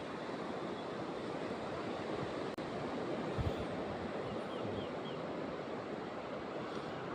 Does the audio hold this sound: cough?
no